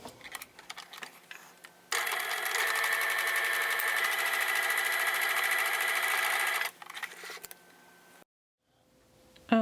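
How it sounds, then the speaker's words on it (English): A sewing machine runs steadily for several seconds, a loud, even mechanical whir with a fine rapid ticking as it stitches the shoulder seams of a New Look 6434 top, with quieter handling sounds before and after. "we're going to sew both the shoulder seams together at 5/8 of an inch"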